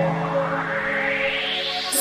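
Riser sound effect sample from a music production FX track: a dense synthetic tone that sweeps steadily upward in pitch over a sustained droning bed, loud and continuous, building toward a brief bright burst at the end.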